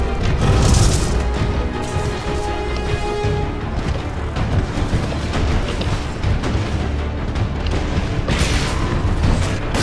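Explosions and heavy booms from combat in the video game Titanfall 2, continuous loud blasts and crashes throughout with dense mid-low rumble and gunfire-like hits.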